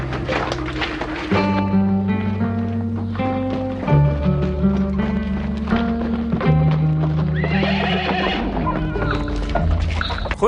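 A horse whinnies and its hooves clip-clop, with loud neighs and steady hoofbeats close by and tonal sounds layered underneath.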